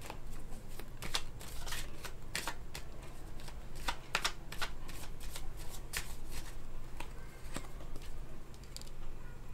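Tarot cards shuffled continuously during a Capricorn love reading, a steady riffling patter with sharp flicks of the deck throughout, close and fairly loud, no voices.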